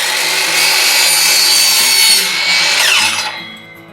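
A power saw makes a 45-degree cut through wooden chair rail trim for beadboard wainscoting, a loud steady whine lasting about three seconds before it cuts off and winds down.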